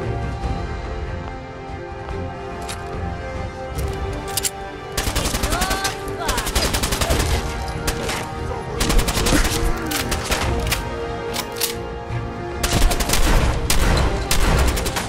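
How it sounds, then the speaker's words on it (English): Repeated gunfire in the video game Fallout 4, a shotgun blasting in dense, overlapping bursts over fifteen seconds with loud bangs clustered throughout and heavier volleys near the end, under a busy combat soundscape. "this fucking shotgun, it never hits"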